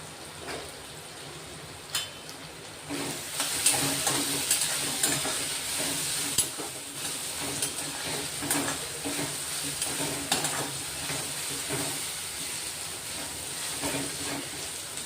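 Asafoetida and a piece of cinnamon dropped into hot oil beside onions, sizzling and crackling steadily with scattered sharp pops and utensil taps, close and moderately loud.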